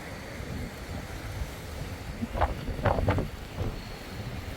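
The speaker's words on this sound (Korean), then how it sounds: "바람이 장난 아닙니다." Strong wind buffets the microphone on a coastal drive toward Oryukdo in Busan, a continuous rough rumble with a few brief gusting swells, no talking.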